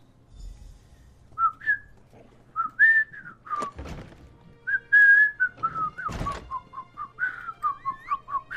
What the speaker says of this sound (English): I'm not very good at whistling.